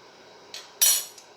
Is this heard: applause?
no